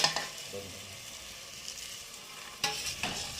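Potatoes, green chillies, tomatoes and peas are stirred in hot oil for spicy khichdi. A soft steady sizzle runs throughout, broken by a couple of louder spoon scrapes against the pan.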